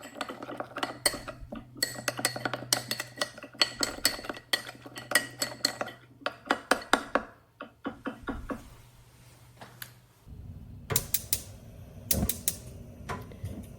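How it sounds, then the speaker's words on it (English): A spoon clinks and taps rapidly against a bowl while honey and mustard sauce is stirred, in quick bursts with short pauses, close and fairly quiet, followed by a duller rumbling clatter toward the end. "And then just stir to combine"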